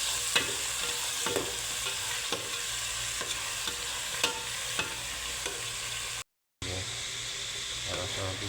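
Onions and green chillies frying in a pan with steady sizzling and a few soft stirring scrapes, a brief dropout near the end.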